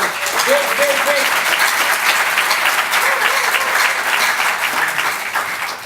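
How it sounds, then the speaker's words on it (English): A summit audience breaks into loud, sustained applause, thick continuous clapping with crowd murmur and a few cheering voices blended underneath. "Let's give a big round of applause for being here"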